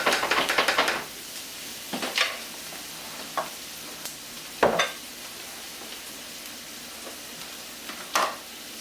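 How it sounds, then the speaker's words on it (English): Curry fried rice frying in a pan, a soft continuous sizzle with several sharp scraping stirs spaced a couple of seconds apart, no talking. "let it fry up"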